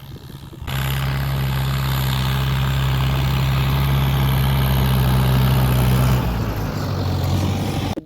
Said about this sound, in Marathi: ट्रॅक्टर आणलेला आहे सोयाबीन पेरणीसाठी.